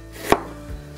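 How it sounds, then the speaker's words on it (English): A single sharp knife chop through an onion cut in half for rings lands on a board, one crisp close knock with a faint thud just after. "I cut the onion in half, and I'm just slicing it into rings"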